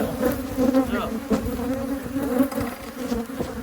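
Dense, steady buzzing from a crowd of honey bees swarming close around an opened hive during an inspection, continuous and fairly loud with no talk.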